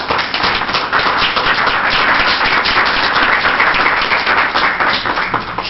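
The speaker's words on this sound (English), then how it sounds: "No, I'm applauding Allison." Dense, even applause at a city council meeting, many hands clapping steadily and fairly close for several seconds without pause.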